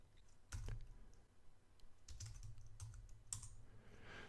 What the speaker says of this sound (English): I type cd space